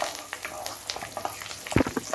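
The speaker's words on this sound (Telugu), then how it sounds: "అంటే ఆవాలు, వెల్లుల్లిపాయ కొంచెం ఒకలా వేగుతాయి" Mustard seeds and garlic fry in hot oil while tempering is made for a drumstick pickle, giving a continuous close sizzle with small pops and crackles and a louder burst near the end.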